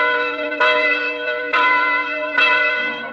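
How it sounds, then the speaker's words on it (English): Large church tower bells in a cartoon ring in three heavy, resonant strikes about a second apart, each leaving a long humming ring, with no talking. "But it's time to ring the bells."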